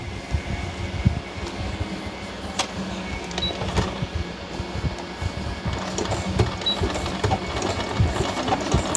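A sewing machine stitches a zigzag in a steady mechanical whir with rapid needle clatter, running continuously and close up, with faint occasional background sounds.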